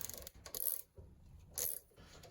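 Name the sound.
ratchet turning a 12mm socket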